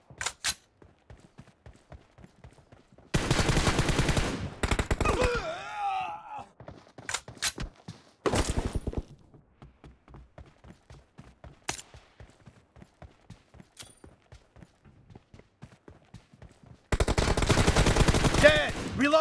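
Bursts of automatic gunfire from a video game team deathmatch arrive in several loud volleys, with scattered single shots and clicks between them and a brief voice now and then.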